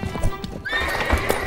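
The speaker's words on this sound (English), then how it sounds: "The horses got spooked" Horses pulling a trading caravan's wagons near a bridge in the Czech highlands whinny sharply, with clopping hooves and a frightened neigh rising close and loud over a busy staged scene.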